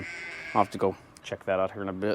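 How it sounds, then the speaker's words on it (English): Unhappy sheep on a rural property bleat loudly in several drawn-out calls close by, overlapping a man's speech. "The sheep aren't happy for whatever reason."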